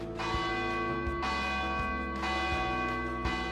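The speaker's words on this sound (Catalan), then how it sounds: "la meva primera vegada tocant campanes" Large church bells ring loudly and close, their rich resonant tones struck repeatedly in a steady, deliberate rhythm that overlaps and lingers.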